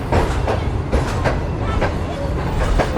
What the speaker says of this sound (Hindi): तो फाइनली ट्रेन हमारी रोडी जंक्शन रेलवे स्टेशन के प्लेटफॉर्म नंबर 1 पर लग रही है।